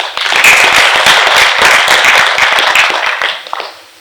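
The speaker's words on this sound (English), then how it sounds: "So a big applause to all of us." A seated audience at a leadership event for ICAI office-bearers breaks into loud, close applause, many hands clapping together in a sustained burst that fades out near the end.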